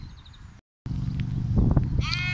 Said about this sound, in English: And these are our pedigree Wiltshire horn ewes. We have 5, and you can hear shouting in the background.